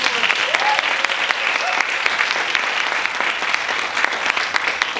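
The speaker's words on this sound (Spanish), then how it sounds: "Creo que se merecen otro aplauso" An audience at a talk on care work and married girls gives a round of applause, dense clapping throughout with sharper individual claps, and a voice briefly speaks over it near the start.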